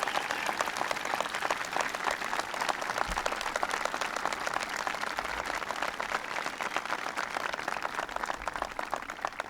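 Sustained applause from a large audience, dense steady clapping for several seconds without a break.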